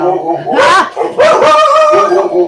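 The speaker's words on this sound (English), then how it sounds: "Oh, we have dumb dogs." Dogs on a homestead bark loudly and close by in a few quick bursts, with yips mixed in.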